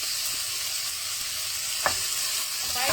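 Pork belly and dry chili frying in oil in a wok, a steady close sizzle with a single sharp scrape of a utensil partway through.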